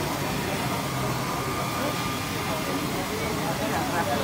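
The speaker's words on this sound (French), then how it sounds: "Les sèche-cheveux vont partir." Hair dryers blow in a steady, loud broadband rush that fills the whole moment without pause, close by and continuous.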